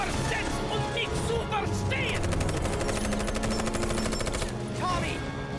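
Rapid gunfire in a Halo machinima battle, dense automatic bursts running continuously with voices talking over the shooting.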